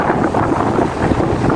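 Strong wind buffets a fishing boat out on a choppy sea, a loud, steady roar of gusts and water rushing with no pauses and no voices.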